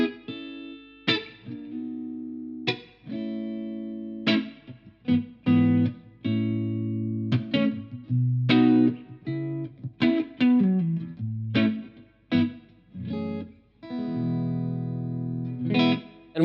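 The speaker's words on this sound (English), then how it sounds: "turn the master up, I'm greeted with a very nice full-bodied clean" A bass guitar plays through a Blackstar TV-10B amplifier set to a full-bodied clean tone, with plucked notes and sustained lines ringing out in a steady phrase, close and clear, with no talking.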